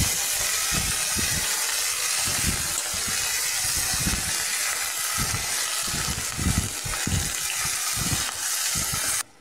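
Washed bathua greens hit hot oil seasoned with fenugreek, fennel and green chilli in a pan, giving a loud steady sizzling hiss with irregular spattering pops, then stopping abruptly at the end.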